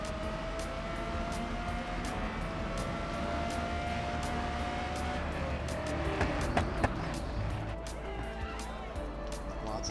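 Race cars in GRID Legends roar steadily through dense traffic, a continuous layered engine drone with sharper whooshes of cars passing close near the end.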